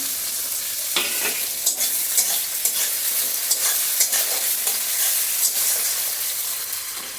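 Chopped tomatoes sizzle and crackle steadily in a hot pan, with rhythmic scraping of a spoon stirring them, close and fairly loud.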